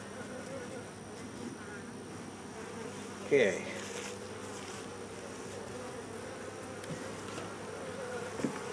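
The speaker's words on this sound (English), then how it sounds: "If you put water in there, you got a bunch of bees that would be out doing bee stuff." Honey bees buzz steadily in and around a beehive, a continuous close hum with a brief spoken word partway through.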